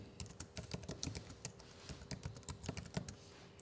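Quiet, close typing on a computer keyboard while entering a tag name, a steady patter of irregular key clicks with small pauses between bursts.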